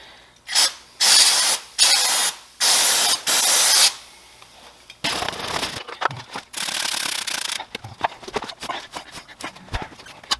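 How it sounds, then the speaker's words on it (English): An aerosol can of Maxima Clean Up chain cleaner sprays a 2004 Honda Rebel CMX250 motorcycle chain in five loud, close hissing bursts, followed by softer scrubbing and rubbing noises. "So I'm going to start off with the Maxima Cleanup chain cleaner."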